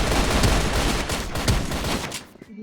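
Rapid bursts of gunfire from a video game shooter, dense and loud, with repeated sharp shots and automatic fire rattling almost continuously before cutting off near the end.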